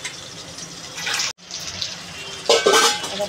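Running faucet water pours and splashes loudly as rita fish and potato pieces are rinsed at a kitchen sink, briefly cut off near the middle, then returning with a stronger gush.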